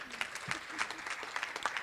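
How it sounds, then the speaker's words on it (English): Brief burst of audience applause for a youth summit panel, a scattered patter of clapping from a modest crowd, fairly quiet and steady for a couple of seconds. "So let's give our panel a round of applause."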